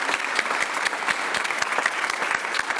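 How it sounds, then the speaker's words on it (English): An audience at a Paducah transportation grant announcement breaks into sustained applause, a dense and steady wash of many hands clapping at moderate volume with a faint murmur of voices underneath. "Let's give her a round of applause"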